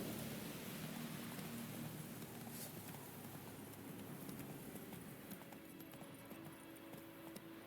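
In the game Witcher 3, horse hooves clip-clop in a steady, quick rhythm over a soft, rain-like hiss, fairly faint and continuous throughout.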